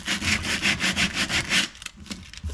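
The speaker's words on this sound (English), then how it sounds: "you just take it and you just rub the sandpaper on there" Sandpaper rubbed by hand over a painted wood hutch to distress the finish, a run of steady rhythmic back-and-forth rasping strokes, close and fairly loud, that fade into quieter scattered scuffs.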